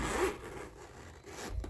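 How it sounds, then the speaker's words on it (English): The zipper on a pocket of a Louis Vuitton All-In MM tote is pulled in a quick rasping run, close and fairly quiet, with no talking over it. "It's a zip right here."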